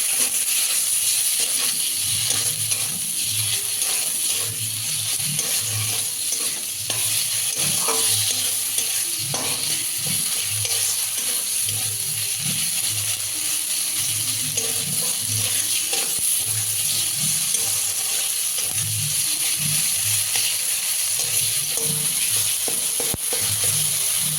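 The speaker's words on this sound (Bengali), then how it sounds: "মশলাটা দেবো, ভালো করে কষিয়ে নেবো।" Spice paste with green chillies and chopped tomato sautéed for a fish curry, a continuous loud sizzle broken by repeated spoon scrapes and stirring against the pan, close up and with no talking.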